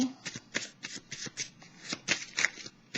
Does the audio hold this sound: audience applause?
no